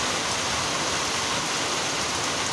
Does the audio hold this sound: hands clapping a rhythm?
no